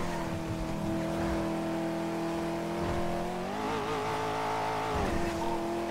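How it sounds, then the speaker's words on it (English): Car cruising along a freeway in GTA V on the NoPixel roleplay server, a steady engine drone holding a constant pitch that shifts slightly as the car changes speed, with no talk over it. "Driving on the freeway"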